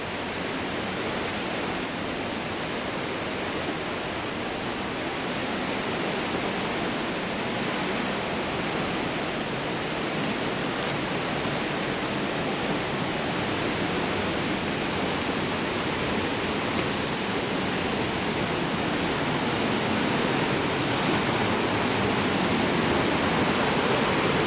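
Cumberland Falls in Kentucky roars continuously, a dense, loud and unbroken wash of falling water with no other sounds standing out.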